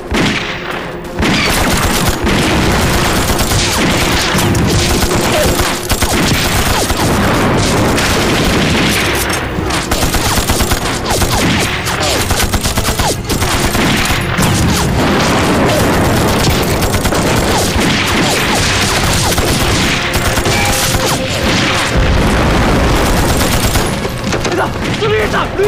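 Sustained machine gun fire and explosions in a war film battle against Japanese troops, loud and continuous bursts with booming blasts, voices shouting over the din.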